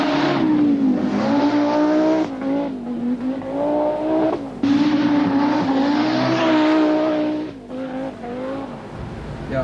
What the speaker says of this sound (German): Auch der Walter Röhrl fährt nicht immer so lampfromm